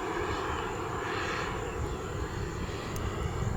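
A Flyfly Hobbies Viper 2.2 turbine RC jet throttling back for a long rollout, a loud, steady engine roar with a high whine held throughout, no voices.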